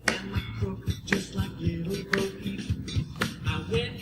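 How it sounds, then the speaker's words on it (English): Rhythmic hand claps keep time with a children's worship song at a summer Sunday gathering, a steady pattern of sharp, moderately loud claps over music, with no talking. "And here's where we do the clapping."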